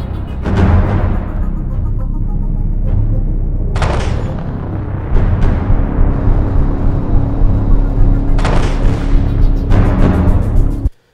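A deck gun effect for a video game fires in loud, heavy booming blasts over a constant engine-like rumble, with several shots spaced irregularly before an abrupt stop.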